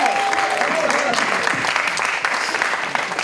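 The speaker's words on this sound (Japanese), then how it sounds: "朝11時からここに集まってくださった皆さんにお互いにみんな拍手" Audience applause at the closing ceremony of a Korea-Japan theatre festival, steady dense clapping throughout with voices talking and cheering over it.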